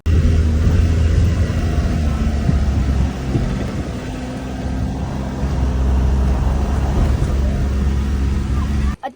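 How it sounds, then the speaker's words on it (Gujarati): A Maruti Alto car engine labours uphill on a mountain road near Nainital, Uttarakhand, a steady loud low rumble running unbroken from start to finish, with no talk over it. "એટલા ઉપર આવ્યો ને ગાડીનો અવાજ સાંભળો ખાલી લોકો"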